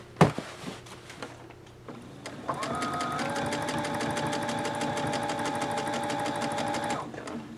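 A sewing machine stitches a seam on a hair salon apron, first a few slow hand-turned clicks, then a steady fast mechanical run of about four and a half seconds that stops abruptly, close and clear.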